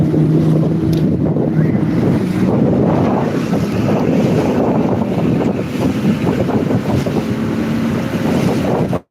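Strong wind roars steadily across the microphone during a sea crossing by boat near Batu Feringgi beach, with waves and water washing against the hull underneath, loud and continuous throughout.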